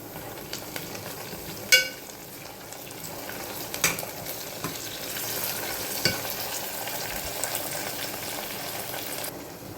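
Telangana-style keema curry fries in a pan with onions and mint, a constant close sizzle broken by a few sharp clanks from stirring.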